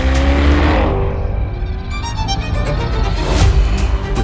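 A Chevrolet Corvette E-Ray with a 6.2-liter V8 and a front electric drive motor accelerates hard, its loud engine roar steady and close throughout with rising revs and no talk.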